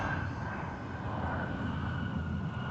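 An Embraer 175 LR regional jet airliner at Minneapolis–St. Paul airport gives off a steady, loud broadband engine roar, constant and unbroken throughout, with no talk.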